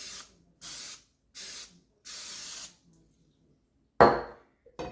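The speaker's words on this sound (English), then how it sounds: "we're going to take the pan, we're going to spray it lightly with cooking spray." Cooking spray misted onto a pan in four short, even hissing bursts, close and clear, followed by a sharper clatter.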